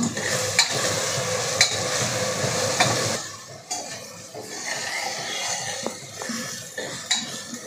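Tomato being stirred into biryani masala in a pot, with steady frying sizzle, a spoon scraping and occasional sharp clinks against the metal pot, loud at first and then quieter.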